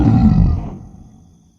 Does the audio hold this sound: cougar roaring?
yes